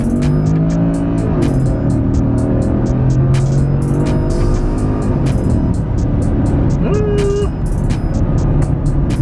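A 400-horsepower Porsche Cayenne S pulling hard in first gear, a loud, continuous engine roar that rises in pitch, heard from inside the cabin with a voice talking over it.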